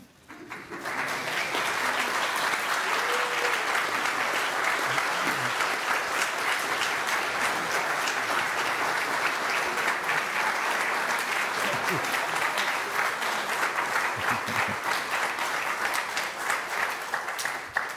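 Audience applause welcoming new church members who joined during COVID, a dense, steady clapping that holds strong for the whole stretch with a few faint voices underneath.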